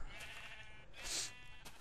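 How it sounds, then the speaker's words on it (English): A sheep bleats in a pixel-art video game, a short bleat near the middle of a brief stretch with a steady low background. "And there's currently a sheep stuck in there."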